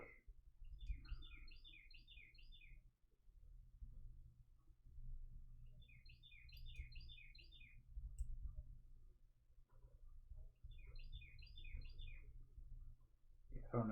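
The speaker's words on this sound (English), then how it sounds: "That's actually the birds outside. They're like super loud right now." Birds outside give three short bursts of high, rapid chirping, faint and distant, over the low rumble of an indoor room.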